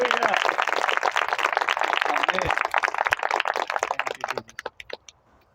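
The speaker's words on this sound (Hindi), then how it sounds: "एक दफ़ा अपने लिए ज़ोरदार तालियां बजाएं आप।" A congregation at a Christian church service claps loudly and densely, the applause sustained for several seconds before thinning into a few last claps and fading out, with a voice faintly present.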